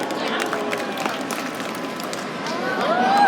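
An audience at a sea lion show at West Edmonton Mall cheers and claps in a broad crowd wash, moderately loud throughout and swelling slightly at the end, with a voice speaking over it.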